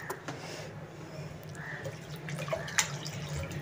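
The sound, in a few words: water being poured into a pan while cooking vegetable Manchurian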